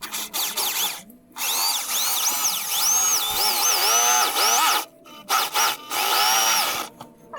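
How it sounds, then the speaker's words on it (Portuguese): A power drill with a somewhat dull bit bores a hole for a homemade vise, the loud close whine rising and falling in pitch as the bit bites, with short stops between runs. "Eu vou furar aqui tentando acertar"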